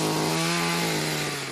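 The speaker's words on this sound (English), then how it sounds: "Now, that is an ice auger." A powered ice auger bores a hole through frozen lake ice in winter, its motor a loud, steady, high-pitched buzzing drone held close throughout.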